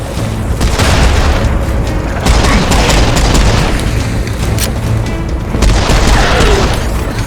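Heavy gunfire and booming blasts from Serious Sam: Siberian Mayhem pound loudly and almost nonstop, a dense barrage of shots and explosions with no talking over it.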